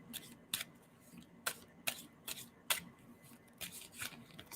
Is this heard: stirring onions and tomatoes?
no